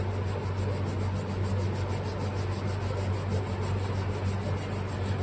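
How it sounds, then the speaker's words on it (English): Steel wool soaked in brake cleaner scrubs a push-mower carburetor in continuous rapid rubbing strokes, close and steady, beneath the constant drone of a nearby fan. "Get some brake cleaner in the steel wool because it dries out so fast"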